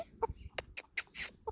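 A hen held in someone's arms gives short, soft clucks and a few brief squawks, close and intermittent, with quiet pauses between the calls.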